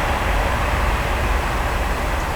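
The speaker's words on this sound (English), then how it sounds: "excuse the train." A steady, loud low rumble of a train rolling past nearby a carp fishing bank, constant throughout with no voices.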